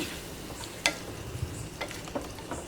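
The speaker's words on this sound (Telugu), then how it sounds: "ఈ గోంగూర మొత్తం దీనిలోకి యాడ్ చేసుకొని మొత్తం కలిసేలాగా ఒకసారి బాగా తిప్పుకోవాలి" Ground gongura leaves stirred into a hot oil tempering, giving a soft, low sizzle with a few faint scraping ticks of the spoon, quiet and steady with no voices.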